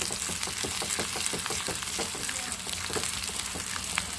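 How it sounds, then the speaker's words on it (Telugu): Curry leaves frying in a pan for a drumstick-leaf dish, giving a steady, dense sizzle with crackling pops throughout, close and fairly loud, with no talk. "కరివేపాకు కరివేపాకు కూడా వేసుకొని బాగా ఫ్రై చేసుకోండి"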